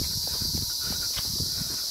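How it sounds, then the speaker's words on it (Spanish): Steady, high buzzing drone of cicadas running continuously outdoors in a rural setting, with faint footsteps or shuffling underneath. "Chicharras. Chicharras. Son las chicharras,"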